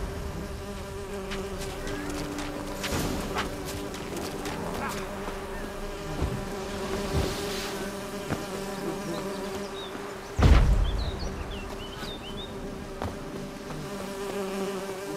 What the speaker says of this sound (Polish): Dzikie pszczoły?